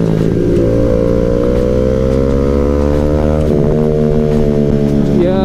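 Suzuki GSX150 and Kawasaki ZX25R four-cylinder 250cc motorcycles racing, a loud continuous multi-engine drone with rising and falling harmonic whine as the bikes accelerate close by, dense and steady throughout.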